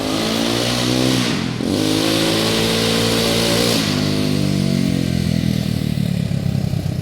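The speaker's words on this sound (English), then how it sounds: "Listen to how damn loud this new four-wheeler is." Loud, continuous engine roar from a 1999 Kawasaki Bayou 300 four-wheeler running a straight pipe with no exhaust, rising and falling in pitch with a strong harmonic drone as it revs up and settles, close by and with no talk.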